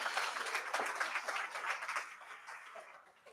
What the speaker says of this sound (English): let's give another applause to Kaimin and Alex